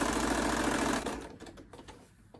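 A sewing machine stitches a fabric shopping bag, running loud and steady at close range for about a second before slowing and trailing off into faint, irregular mechanical clicks.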